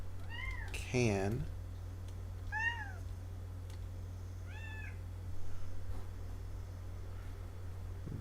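A chatty house cat meows several times, loud and close, over a steady electrical hum, with a brief spoken word between calls.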